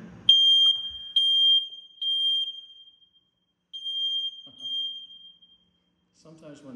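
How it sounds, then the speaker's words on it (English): A condo smoke alarm being tested sounds in shrill, piercing beeps, one long tone and several shorter bursts, loud and near, with brief rustling at the start and end. "test the smoke alarm."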